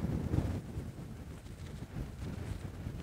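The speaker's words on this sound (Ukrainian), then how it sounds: "Надмірно сильнючий вітрюган" Very strong wind gusts across an open field of sunflower seedlings, buffeting the microphone in low rumbling surges that rise and fall without a break.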